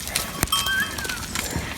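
A stampede of sheep on a hillside ridge in rural Croatia, heard as quick, scattered hoof clatter with bright bird-like calls over steady outdoor noise.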